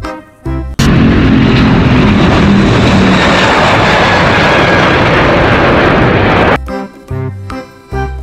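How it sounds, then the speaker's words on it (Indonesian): An airplane roars loudly and continuously for about six seconds, starting and stopping abruptly, alongside toy vehicles. Short tonal sounds come just before and after it. "lihat, ada pesawat terbang"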